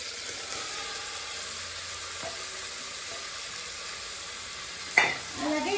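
A ginger, green chili and garlic paste stirred into a hot pan for a mixed vegetable curry, giving a steady, moderate sizzle with a brief utensil scrape near the end.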